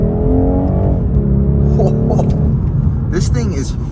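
A 2023 BMW 230i Coupe pulling hard under throttle gives a loud, steady engine drone that climbs in pitch, heard from inside the cabin with some faint higher whines layered over the rumble.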